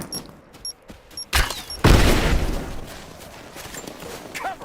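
Gunfire crackles in the video game Rise of the Tomb Raider: a few sharp isolated shots, then a heavy burst followed by a sustained rattling volley that trails off, with faint voices in the background.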